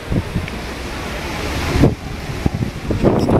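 Wind buffets the microphone outdoors with a steady, rushing roar. Sharper gusts and thumps strike near the middle and near the end.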